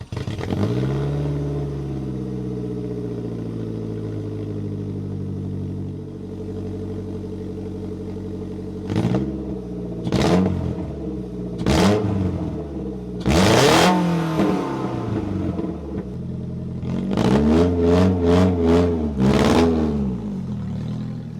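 A small four-cylinder Kia engine idles, then revs repeatedly in sharp bursts, a few single blips followed by a quick cluster of throttle stabs, loud and close.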